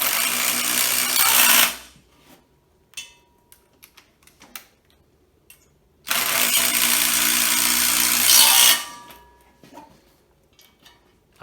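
A cordless 18V TID18 impact driver with a 13 mm socket, on mode 3 and speed 3, hammers screws home in two long loud rattling bursts, each followed by short clicks and taps in a quiet pause.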